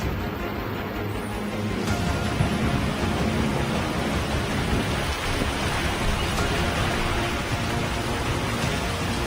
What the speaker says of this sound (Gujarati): ભારે વરસાદને પગલે નીચાણવાળા વિસ્તારોમાં પાણી ભરાઈ ગયા।